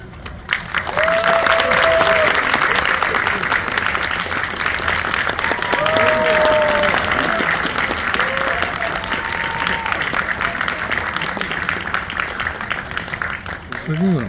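Sustained applause from a large audience at a Korean film premiere stage greeting for the director and cast, steady and loud throughout, with a few voices and whoops rising above the clapping.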